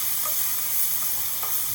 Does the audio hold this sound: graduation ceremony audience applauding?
no